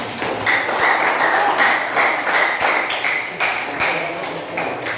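A classroom of students claps in a steady burst for about five seconds, with dense, even applause filling the room and no talk over it.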